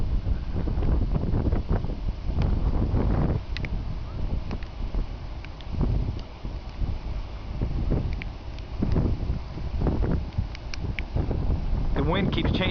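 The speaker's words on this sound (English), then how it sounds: "The wind keeps changing directions." Gusty wind blows hard during a thunderstorm, a continuous rushing roar with buffeting against the microphone and irregular low thumps, heard close and steady throughout.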